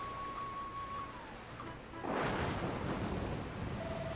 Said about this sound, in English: Where did this rain come from?